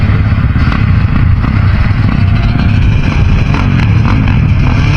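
Motocross bikes revving together at the starting gate just before the gate drop on a dirt track, a dense, loud, continuous engine roar with slight fluctuations throughout and no talk.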